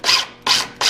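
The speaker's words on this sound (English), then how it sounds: "just screw it in place" Screwing a part into place on a GT2000 steering assembly, heard as three close, loud rasping bursts that each last a few tenths of a second and are separated by short pauses.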